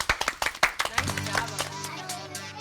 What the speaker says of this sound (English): How about a round of applause for Olivia?